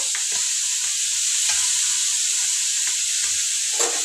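Ingredients for budamkaya chutney frying in a pan with oil, a steady bright sizzle throughout, close and loud, with a few soft stirring knocks.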